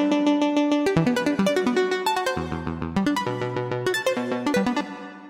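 A randomized arpeggiated synth in Ableton with a beat repeat effect plays quick plucky note runs that jump in pitch, then stutter into rapid repeated low notes before resuming, up close and alone.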